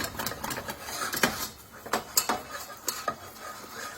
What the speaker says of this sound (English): Stirring, stirring.